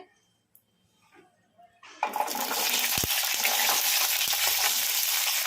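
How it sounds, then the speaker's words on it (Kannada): Green chillies dropped into hot oil in a kadai, a quiet start giving way to a sudden loud, continuous sizzle and crackle that stays strong to the end. "ಈಗ ಇದಕ್ಕೆ ಹಸಿಮೆಣಸಿನ್ಕಾಯಿ ಹಾಕೋಣ ಕಡಾಯಿಗೆ"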